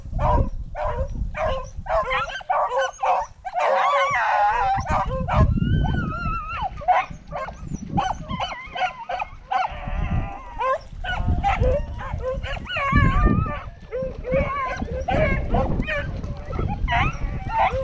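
Beagles bay and yelp repeatedly while running swamp rabbits on a hunt, their excited cries near and continuous, overlapping with people talking outdoors.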